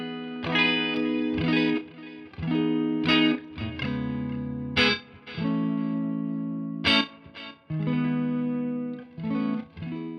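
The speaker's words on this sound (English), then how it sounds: "the first preset, which is a deluxe reverb patch with a space echo added" Electric guitar notes and chords played alone through a Fender Tone Master Pro deluxe reverb preset with space echo, washed in lush reverb with repeating tape-style echoes trailing after each phrase.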